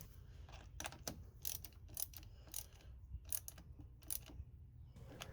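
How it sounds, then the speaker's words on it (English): Ratcheting clicks from a wrench tightening the battery terminal nut on a 2001-2005 Honda Civic, several short bursts of clicking spread across the clip, close and moderately quiet. "Now we can reattach the battery terminal and tighten the nut."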